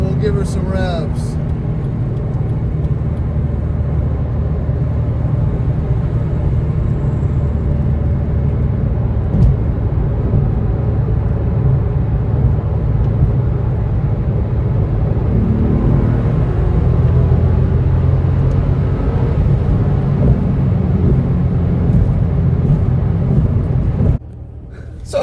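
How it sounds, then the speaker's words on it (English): A Porsche 997.1 flat-six, six years old, revs loudly and steadily at close range in a deep, continuous rumble that holds for about 24 seconds before cutting off abruptly. "So, in the name of science, we'll give her some revs."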